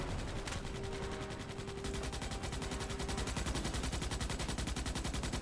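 Rapid, evenly paced automatic fire in Starship Troopers: Extermination, a steady stream of close, loud shots that grows denser after a brief lull, with a faint tonal hum underneath and no speech.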